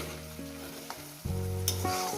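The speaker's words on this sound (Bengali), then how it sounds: "এবার এটাকে আমি কষতে থাকবো" Spice masala for a Bengali fish curry sautés in a pan with a splash of water, giving a close, steady sizzle and frying crackle under a faint tonal hum, with no talk.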